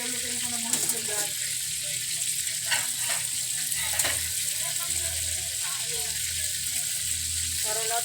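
Eggs sizzling in a pan in a home kitchen, a steady bright frying hiss throughout with faint clinks of utensils, while people talk nearby.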